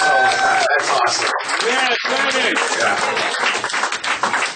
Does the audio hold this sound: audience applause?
yes